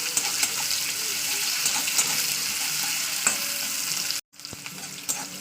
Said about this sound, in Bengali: এবার পেঁয়াজটাকে একটু লালিয়ে করে ভেজে নেবো।